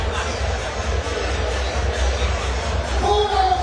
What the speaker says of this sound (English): Crowd are absolutely loving this